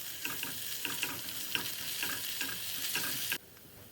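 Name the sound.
chopped tomato frying with garlic and ginger paste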